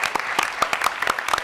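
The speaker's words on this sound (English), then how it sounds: "give yourself a round of applause." Scattered applause from a small audience at a White House social gathering, a few short bursts of clapping over roughly a second and a half, thin and moderately loud rather than a full ovation.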